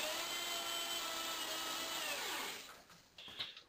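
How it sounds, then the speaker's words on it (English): A steady, loud electric drill coiling resistance wire for a kiln heating element whirs continuously with a falling whine near the end, then cuts off, leaving a few faint clicks and rattles. "As I'm running the drill, I push in gently to make sure the wire stays coiled tightly."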